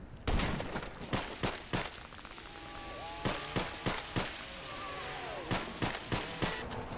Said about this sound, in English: you want to get the 50 cal, and you want to just keep shooting it until it lowers once